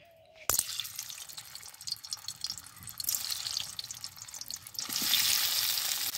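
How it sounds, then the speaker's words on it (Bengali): A burst of loud sizzling as small new potatoes drop into hot oil in a kadai (wok), crackling and hissing steadily and swelling louder toward the end. "তেলটা গরম হয়ে গেছে, এখন আলুগুলো ছেড়ে দেব।"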